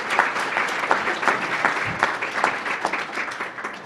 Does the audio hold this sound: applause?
yes